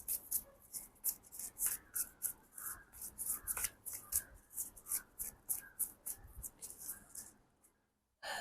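A deck of tarot cards is shuffled by hand during a reading, giving a steady run of soft, crisp riffling bursts in quick rhythm, close and moderately quiet, with no talk over it, then a brief silence at the end.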